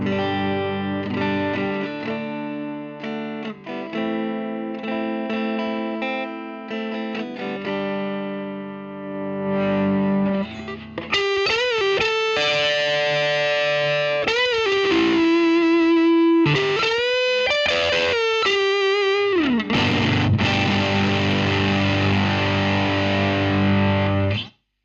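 Electric guitar played through a modded Ibanez Sonic Distortion pedal, with thick sustained distorted chords, then bending lead notes and a final ringing chord, heard alone and loud.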